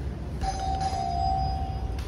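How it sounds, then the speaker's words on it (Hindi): A doorbell to a room rings with a single sustained electronic tone that holds for about a second and a half over a low background rumble, with no talk. "अभी मैं घंटी बजाने वाला हूँ मेरे रूम की"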